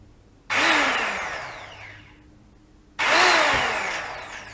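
A Neilsen 1010w mains electric impact wrench spins up twice: each burst starts abruptly with a loud whirring whine, then gradually winds down, close and clear, with no talk.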